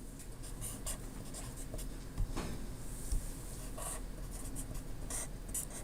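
Chalk or marker scratches and taps across a lecture-hall board while an NMOS transistor diagram is drawn, a steady rubbing with sharper strokes, fairly quiet and with no talking.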